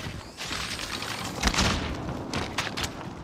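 A grenade blast in a video game firefight: a heavy booming burst near the middle, then several sharp cracks and thuds over steady background game noise.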